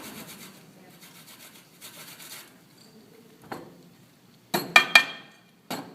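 A spoon stirring oatmeal and fruit in a bowl, soft scraping passes followed by a few sharp clinks against the bowl, close and fairly quiet, with no voices.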